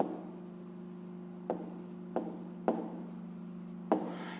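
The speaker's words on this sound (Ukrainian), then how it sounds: "Так і записуємо, пишемо відповідь" Pen writing an answer to a fifth-grade math exercise on paper, soft scratchy strokes with a few sharp taps, close and quiet over a steady background hum.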